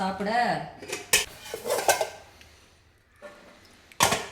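Dishes and cutlery clink as lunch is served, steel utensils tapping plates in several sharp, close knocks with quiet gaps between them and a voice briefly heard at the start.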